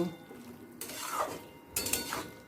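A spoon stirs ghee and garam masala through a vegetarian papaya curry, with two close, loud bursts of scraping and clattering against the pan and no voice.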